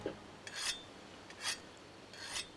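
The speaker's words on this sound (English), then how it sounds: "How am I sharpening the hammer by using the whetstone on the handle?" In Monster Hunter World, a hammer is sharpened with a whetstone: three separate scraping strokes, each a short gritty rasp, spaced about a second apart and fairly soft over a quiet game background.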